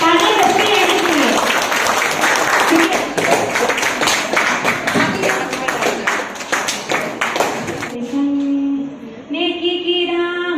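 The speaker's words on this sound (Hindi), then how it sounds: "तालियां बजती रहनी चाहिए।" Applause at a Teacher's Day celebration in a B.Ed department on a college campus, clapping mixed with an amplified voice and music, then tapering off as sung music takes over near the end.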